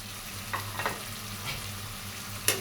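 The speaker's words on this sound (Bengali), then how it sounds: "সবগুলোকে নেড়ে চেড়ে রান্না করে নেব" Bombay duck (loitta) fish and chopped green chilli frying in an open pan under a steady hiss, with a few light scrapes of a stirring spatula and one sharp clink near the end.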